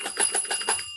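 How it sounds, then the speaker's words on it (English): A bell is rung on a live online show, a quick series of about six bright, shimmering strikes in a steady rhythm, clear and close, with no one talking. "Ring the bell for Gene."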